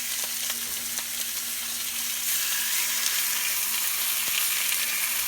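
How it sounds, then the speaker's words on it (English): Chicken browning in olive oil in a pan, a steady close sizzle and crackle with faint occasional clicks, no voices. "I got some olive oil in the pan, and I'm going to brown them"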